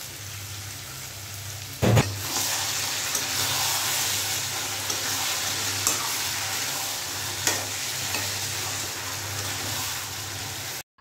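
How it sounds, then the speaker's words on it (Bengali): Meat sizzles steadily in a pan as it is stirred during home cooking, with a constant loud frying hiss, occasional scraping strokes and a sharp clank near the start, and no talking. "মাংস থেকে খুব সুন্দর আলাদা জল বেরিয়ে আসছে, আইসা মোটামুটি কষানো হয়েই যাচ্ছে।"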